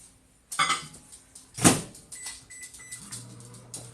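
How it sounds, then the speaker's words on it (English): A microwave oven melting butter: a door thud and a beep-like click, then a low steady hum of the oven running, heard close in a home kitchen. "I'm going to throw my butter in the microwave."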